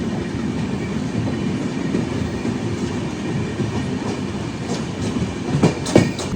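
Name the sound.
Mumbai CSMT–Thiruvananthapuram Express train running slowly near Aluva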